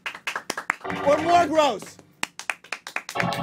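A small live studio audience on a comedy talk show claps in scattered, uneven bursts, close and fairly loud. A man's speech comes first, and the claps follow and overlap briefly.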